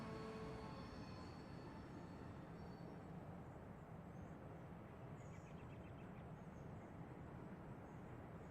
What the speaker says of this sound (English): Finally get this fucking train rolling